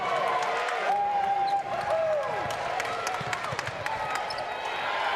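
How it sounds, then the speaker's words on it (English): Basketball crowd at a women's NCAA Division III college game getting animated after a Euro step finish, a broad buzz of cheering with scattered claps, bouncing ball and squeaks, and a commentator talking over it. "What crowd we have here getting a little animated after that move."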